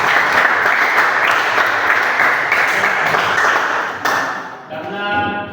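A full class of students in a school classroom applauds, a loud sustained burst of many hands clapping that fades out near the end as a voice begins.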